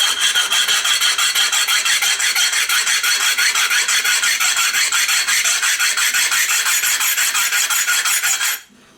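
A straight razor being honed on a whetstone gives a loud, steady rasping scrape in rapid, even back-and-forth strokes that stop abruptly near the end.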